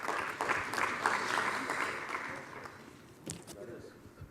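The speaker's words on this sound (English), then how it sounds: "Can we have a huge round of applause for him?" An audience claps at the IIGC 2018 inaugural function: a broad, moderately loud wash of applause that gradually thins and fades toward the end, with a few sharper claps late on.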